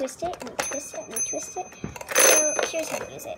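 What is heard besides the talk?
toy chatterbox phone bell ringing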